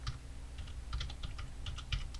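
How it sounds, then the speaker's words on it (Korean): Keys tapped on a computer keyboard while entering a name in editing software, a quiet, irregular run of close clicks with no talk. "네임은 전체 텍스트로 입력할게요"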